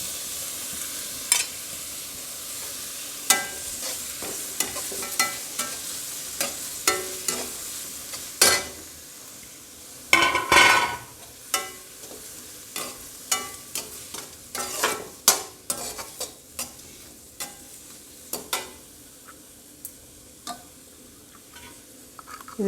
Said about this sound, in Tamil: 2 தக்காளி தாங்க அரிஞ்சு வச்சுருக்கேன். இப்போ அதையும் போட்டு நாம் வதக்கிக்கலாம்.